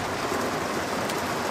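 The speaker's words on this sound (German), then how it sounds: "jetzt gerade melden wir uns vom Gewitterwetter am Hafen in Kalamata" Heavy rain pours down during a thunderstorm at the harbour in Kalamata, Greece, a loud, dense and unbroken hiss of water hitting surfaces, with no talk.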